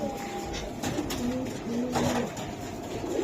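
Pigeons coo at a pigeon market where birds are sold, several low throaty coos overlapping in a close, busy chorus with steady background hubbub.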